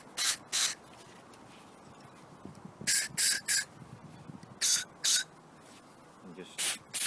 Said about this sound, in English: spray right down in there, just keep spraying it